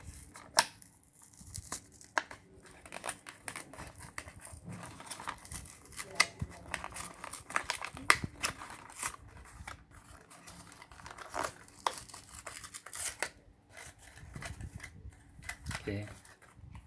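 A parcel is unboxed up close, with intermittent crinkling, rustling and sharp tearing of packaging in irregular bursts, plus a few clicks and taps against a quiet background.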